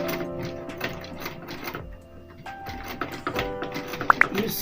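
Sewing machine stitching a twisted band into brown thread, running in bursts of rapid mechanical clattering with a brief pause in the middle and small ticks and squeaks near the end.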